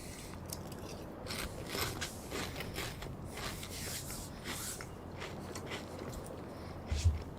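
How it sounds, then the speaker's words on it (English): Someone munches salted crisps as a late night snack, with close, irregular crunchy bites repeating steadily and one sharper thump near the end, and no voices. "sorry guys for molesting you with the munching noises"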